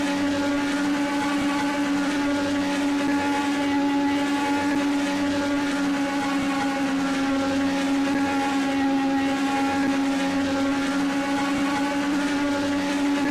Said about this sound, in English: Listen to the engine here in turn 2. It's basically flat out.